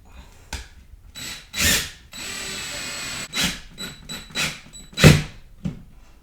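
A power drill drives a screw into a wall while hanging blackout curtain brackets at a window, several loud whirring bursts of varying length separated by short pauses and mechanical clicks.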